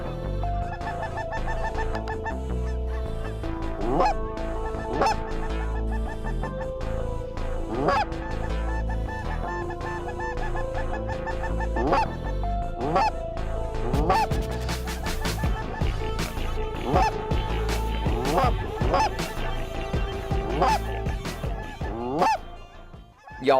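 A flock of geese honking loudly and continuously as they come in to land at a goose hunting camp, many overlapping calls forming a dense, sustained chorus with no talk.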